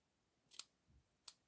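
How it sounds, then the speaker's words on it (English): Scissors trim the tails of a ribbon bow, two crisp snipping cuts close to the mic with a soft handling thump between them, quiet and without talk. "And then I'm going to get my scissors."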